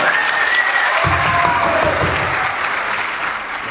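A crowd applauds a performer named Antón at a children's clown show by Payaso Popín in Chapela, a steady, dense wash of clapping sustained across the whole stretch with faint voices mixed in.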